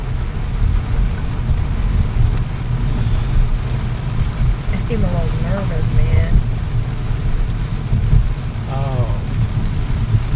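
Steady rain drums on a car, heard from inside the cabin as a loud, constant wash with occasional low rumbles, while people talk briefly over it.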